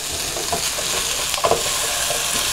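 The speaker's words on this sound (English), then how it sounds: "Put those in. Just give them a good stir." Potatoes get stirred in a frying pan among sautéed greens, a loud, close, continuous sizzle with a few soft clatters and scrapes from the stirring.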